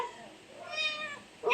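A hungry cat meows for food indoors, a drawn-out near meow rising partway through, with a brief sharper sound at the end.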